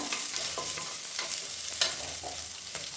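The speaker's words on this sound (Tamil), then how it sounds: "இது எல்லாமே நல்லா வதங்கட்டும்." Garlic and ginger paste sautéing in a hot oiled pan, with a steady close sizzle and soft stirring scrapes throughout, no voices.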